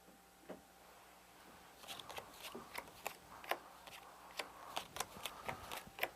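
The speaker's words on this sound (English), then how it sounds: "If I were to take the cards, shuffle, and cut, and this time deal only 4 hands." Playing cards being shuffled and cut, a quiet run of crisp rapid riffling flicks and soft snaps, close and faint, with no talking.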